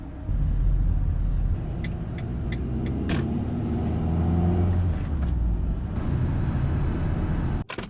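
A van engine drones steadily on a countryside road, a loud continuous low rumble of driving with road noise, ending in a brief clatter.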